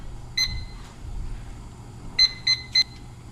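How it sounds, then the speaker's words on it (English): A kitchen timer being set while penne pasta cooks for a freezer-meal bake gives out sharp, high electronic beeps: a single beep, a pause, then three quick beeps in a row over a quiet room. "Setting a timer or I'll forget about them."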